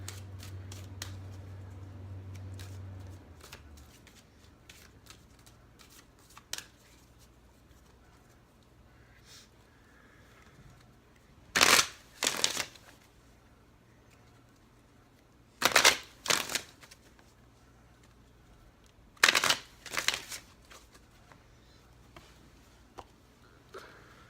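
Tarot cards being shuffled by hand, with faint light handling at first, then three separate bursts of crisp riffling a few seconds apart, fairly close in a quiet room.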